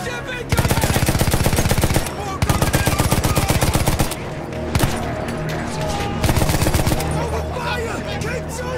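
Rapid machine-gun fire aimed at an incoming airship in Battlefield 1, loud and close, running in long dense bursts with brief gaps, joined by other shots and booms in the surrounding battle, with shouting voices mixed in.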